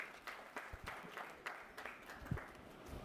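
Audience applause at a Punjab Bar Council legal convention, a steady crowd clapping with scattered louder claps throughout, moderately distant in a large hall.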